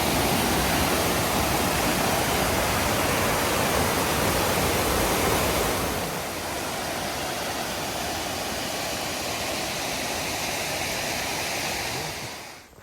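Chapel Falls, a large waterfall at Pictured Rocks, roars as a steady, dense broadband rush with no voices, easing slightly softer midway and then fading out at the very end.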